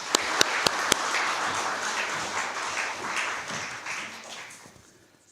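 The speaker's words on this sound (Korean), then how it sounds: "선교해 주신 예수님께 박수로 영광을 올려드립니다." A church congregation at a Sunday worship service breaks into sustained applause, opening with a few sharp, distinct claps before settling into a dense, even roar of clapping that tapers off toward the end.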